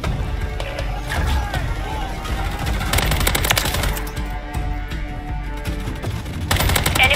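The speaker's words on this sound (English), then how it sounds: "Taking effective fire!" Gunfire in the Call of Duty MWIII beta on the Rust map: bursts of automatic weapon fire crackle almost continuously with sharper single shots, loud and near, under shouted in-game voice callouts.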